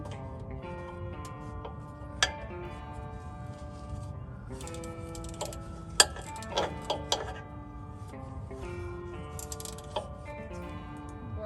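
A ratchet wrench clicking at a quiet, irregular pace during repair work on a Jeep Cherokee, with small sharp metallic ticks standing out over a low background hum.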